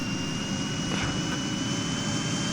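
Helicopter engine in the Minecraft MC Heli mod, a steady whining turbine drone with a high tonal hum that runs unbroken and loud the whole time, with no talk.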